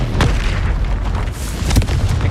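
A Confringo blasting spell goes off in Hogwarts Legacy, a loud, heavy boom with rumbling low end and a couple of sharper bursts, filling the whole moment with no talking.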